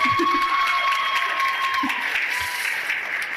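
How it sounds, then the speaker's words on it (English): Applause from a school winter concert audience for two percussionists, a steady even wash of clapping throughout with faint tonal hum and a few low thumps underneath. "Give them a round of applause already."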